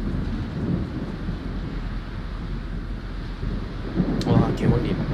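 Storm weather in the naval battle game World of Warships: a low, steady rumble and wind roar throughout, swelling near the end, with a voice briefly audible over it.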